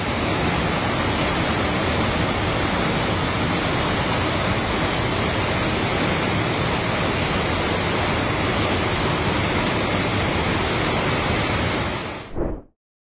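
Floodwater from heavy rains rushes through Nahiku village on Maui, Hawaii, a loud continuous roar of churning water like a waterfall that holds steady before cutting off abruptly.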